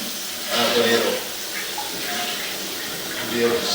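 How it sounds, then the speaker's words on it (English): Water runs from a tap into a drain pipe through an open cleanout, a steady soft hissing flow with faint splashing and small surges, fairly quiet throughout. "I'm going to run a little bit of water"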